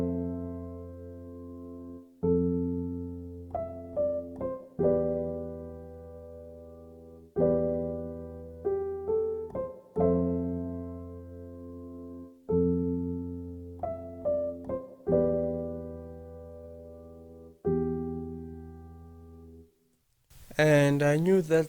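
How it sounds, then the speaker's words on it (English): Vintage-style piano from Soft Labs playing a slow chord progression: repeated struck chords with short melodic fills between them, each decaying before the next, alone for about twenty seconds before a brief burst of different sound at the end. "I then added a piano from Soft Labs"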